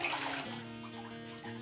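Water flows steadily into a fish pond during a water change, a soft continuous rushing and splashing pour with a faint hum beneath.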